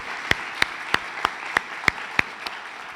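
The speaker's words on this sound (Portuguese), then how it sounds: "vamos aplaudir Jesus" A church congregation claps together in a steady unison rhythm, about three sharp claps per second, over a constant hall murmur.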